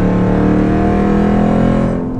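A car with an aftermarket B-Woody intake and a muffler delete accelerates, making a loud, steady droning engine note with layered harmonics. It sounds close for about two seconds and fades slightly at the end, with no talk.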